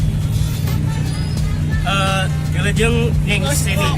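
A bus rolls through congested traffic near a market in Cicalengka, its engine giving a loud low steady rumble from inside while young voices chatter over it.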